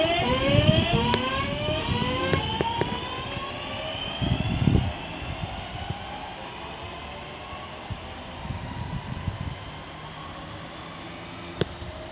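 Two trains pulling away from Bromsgrove station, engines droning and rising as they depart, with rumbling wheel noise and a loud burst early that fades into distant, steady hum.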